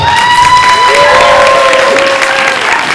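Applause and cheering from a graduation ceremony audience at a Grade 8 graduation, a loud, steady wash of clapping with a sustained tonal whine running through it.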